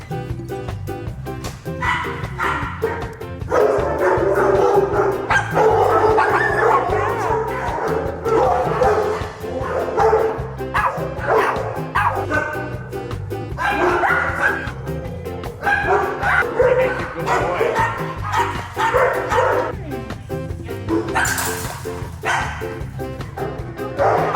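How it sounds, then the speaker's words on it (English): Several dogs at a grooming shelter bark, yip and whimper almost nonstop, close and loud, in excited overlapping bursts. "Let's meet some pups."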